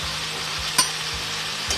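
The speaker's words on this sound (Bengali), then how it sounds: "ভালো করে আবার মিশিয়ে নেব।" Vegetables being stirred in a frying pan with turmeric and chili powder, a steady sizzle underneath with one sharp utensil scrape near the middle and another toward the end.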